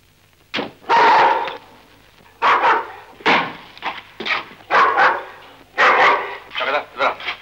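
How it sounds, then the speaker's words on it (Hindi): A dog barks over and over in loud, close bursts, an uneven rhythm of single and doubled woofs, from the soundtrack of the 1973 Hindi film Gaai Aur Gori. "कुत्ता किसका भौंक रहा है?"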